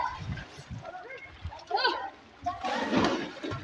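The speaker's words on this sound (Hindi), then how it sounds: "यहाँ पर देखो सारे बच्चे नहा रहे हैं गाइस, ले रहे हैं मजे पानी के स्विमिंग पूल के" Children splash and bathe in a swimming pool, with choppy bursts of water under a hubbub of kids' voices and chatter.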